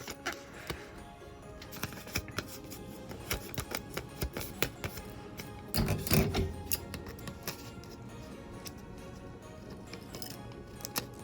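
Adhesive tape is pressed and smoothed down in a run of soft crackles and rubs, with a louder tearing burst midway.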